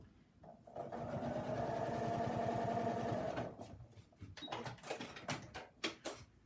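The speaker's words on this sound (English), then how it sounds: "from the folded edge I'm going to sew a 1/4 inch out" A sewing machine stitches a quarter-inch seam along a folded fabric edge for a Dresden plate quilt block, running in a steady rapid whir for several seconds. Scattered clicks and handling knocks follow.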